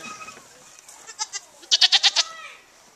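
A goat bleats at a farm pumpkin patch, a few short calls followed by a loud run of five rapid pulsing bleats close by.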